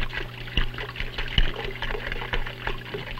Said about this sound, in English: the water is coming out of this pipe I have stuck in this aquarium, and the water's shooting up